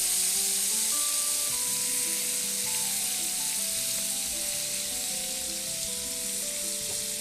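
Butter sizzling in a hot pan with melting caramelised sugar, a steady bright frying hiss throughout, with a soft tonal melody playing underneath.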